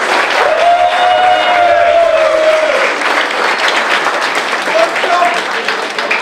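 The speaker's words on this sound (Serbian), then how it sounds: "Ajde, veći aplauz za kumove, molim vas." A large crowd of wedding guests in Đurđevik claps loudly and continuously for the kumovi. Scattered cheers and a voice rise above the steady applause.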